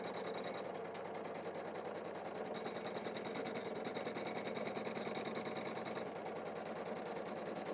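An embroidery machine stitches out a quilted tree design, its needle running in a fast, even mechanical chatter that stays steady and close from start to finish, with no voices.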